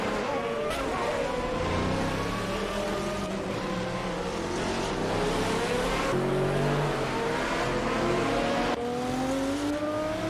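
GTR race cars scream around the Monaco street circuit in a racing video game, engines rising and falling through gear changes as several cars pass in sequence, with a race commentary voice talking over the constant engine noise.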